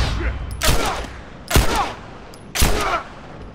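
Gunfire in The Last of Us video game: three loud, close shots spaced about a second apart, each with a short echoing tail, over a low game ambience.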